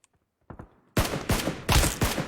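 Gunfire rings out in the mobile battle royale game PUBG Mobile: a couple of faint shots, then a quick sequence of loud, close bursts fired in rapid succession.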